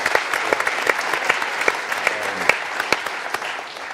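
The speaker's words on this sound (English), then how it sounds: "and I want to give those guys a round of applause" A live audience at a business school symposium applauds the men's basketball managers, steady dense clapping with a few sharper claps standing out, fairly close and loud, with no talk over it.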